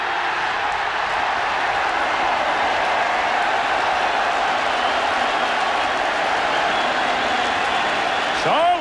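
A Veterans Stadium crowd roars steadily for Charlie Garner's Eagles touchdown against the Redskins in 1995, a dense, sustained wall of cheering and applause that stays loud throughout.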